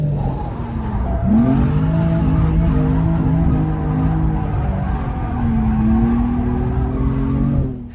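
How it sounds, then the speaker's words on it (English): Rear-drive Toyota GR86 or Mazda MX-5 Miata in a parking lot, engine revving under a loud handbrake turn as tires skid and squeal with rising and falling pitch for several seconds, close and prominent. "which is actually convenient for pulling handbrake turns in parking lots"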